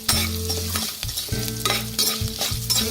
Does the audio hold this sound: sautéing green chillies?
yes